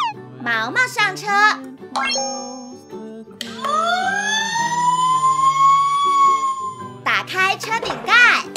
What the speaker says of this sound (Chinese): 嘟嘟，超大号消防车开过来啦！